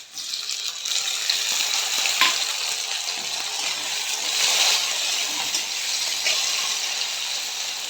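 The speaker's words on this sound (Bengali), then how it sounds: "পেঁয়াজ আর কাঁচা লঙ্কাটা ভাজা হোক" Onion and green chili fry in a pan, a steady close-up sizzle and crackle with occasional stirring scrapes, continuous and fairly loud without talk.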